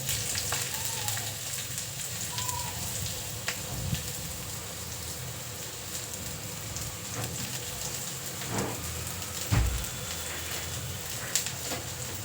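Sliced onions frying in a pan for a Karnataka-style lunch of sambar and ragi mudde, a steady close sizzle with occasional pops and stirring clatter, no voices.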